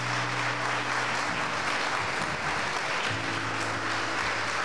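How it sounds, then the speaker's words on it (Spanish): A church congregation applauds during a sermon, sustained dense clapping from many people that holds steady throughout, with faint voices underneath. "Denle un aplauso a Cristo,"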